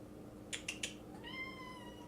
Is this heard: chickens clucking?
no